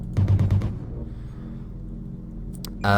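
A quick burst of laser-like zaps from a small pulse laser in the video game MechWarrior Online opens the clip, followed by a low sustained hum, then a short bright electronic burst near the end.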